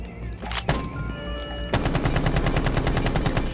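A UMP submachine gun with a compensator fires in Rainbow Six Siege: a sharp shot and a short pause, then a loud, rapid automatic burst of evenly spaced cracks, close up with no talk.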